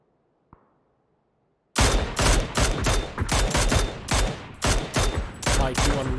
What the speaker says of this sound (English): unleashing a lot of bullets towards the north side of that bridge, just trying to take a couple of wheels off of that car